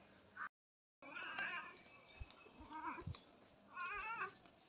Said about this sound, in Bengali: বিড়ালটা আবার চলে এসেছে